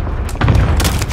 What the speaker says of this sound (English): he's got a rocket launcher.